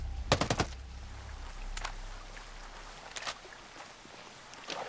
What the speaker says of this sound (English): That is some clean shooting.